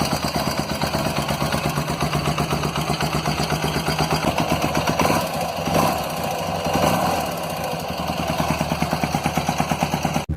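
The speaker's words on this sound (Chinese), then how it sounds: "先大家听一下它的排气声浪。" BMW R80 GS motorcycle with shaft drive, five-speed gearbox and dry single-plate clutch, its exhaust chugging in a steady, rapid idle pulse, close up, with a couple of throttle blips briefly raising the roar midway.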